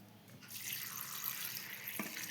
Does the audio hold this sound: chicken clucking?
no